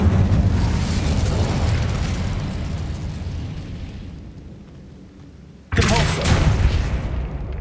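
An Incendio fire spell blast from the video game Hogwarts Legacy hits as a sudden loud burst, breaking a dense, rumbling din that had slowly faded, then roars on for about two seconds.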